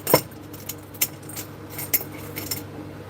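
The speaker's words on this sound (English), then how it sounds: "I need a pair of scissors." Metal scissors picked up and handled on a table: a few sharp metallic clinks and jangles spaced out over a few seconds, fairly faint, with no talking.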